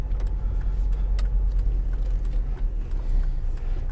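A car drives along the road between Canterbury and Whitstable, heard from inside as a continuous low rumble of engine and tyre noise with a few faint clicks and knocks, no talking.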